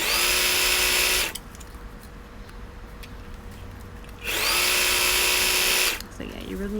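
A sewing machine stitches biker shorts fabric in two loud, steady bursts of whirring motor noise, separated by a quieter pause with a faint tone.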